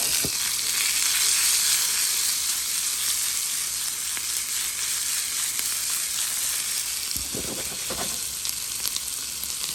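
Hashbrowns and vegetables sizzle in a hot pan with paprika, a dense continuous frying hiss throughout, with a couple of brief stirring scrapes near the end and no talking.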